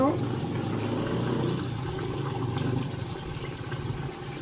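A waterfall during an outing at a resort in Cuyapo, Nueva Ecija, a steady rushing water roar filling the background while people talk over it.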